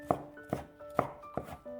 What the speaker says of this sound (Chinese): 再改刀切成细丝，尽量切均匀一些。